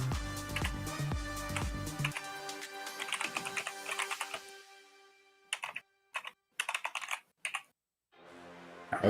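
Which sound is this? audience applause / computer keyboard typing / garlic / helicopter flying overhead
computer keyboard typing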